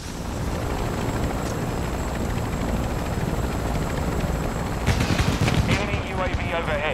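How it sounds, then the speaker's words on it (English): A hostile chopper gunner helicopter in Call of Duty Modern Warfare 2 gives a loud continuous rotor roar throughout, joined near the end by bursts of gunfire. "Hostile chopper gunner in the AO."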